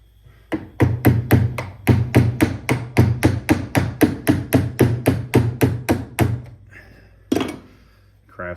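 A screwdriver struck like a hammer during a Takeuchi TL8 pilot joystick reseal gives repeated sharp metallic knocks, about twenty in a steady fast rhythm, followed by a couple of isolated taps.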